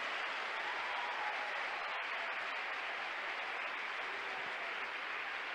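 A church congregation gives sustained applause during a sermon, a steady dense wash of clapping that holds evenly throughout without pause.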